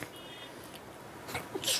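A single short sneeze bursts out near the end of a quiet stretch during an English worksheet lesson for young children, preceded by a few soft breathy sounds.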